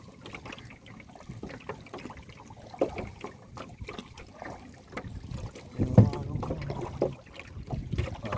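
A small boat is paddled alone on a river toward Kadamakkudy against a headwind: irregular paddle splashes and water trickle over low wind rumble, growing louder in the second half.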